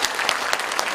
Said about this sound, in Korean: 여러분 정말로 행복하시겠습니다. 박수 한번 하시죠.